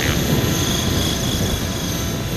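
A T-Rex 600 RC helicopter running on 12S power gives a loud, steady high whine from its electric motor and a whirring rotor hum, sustained and close throughout.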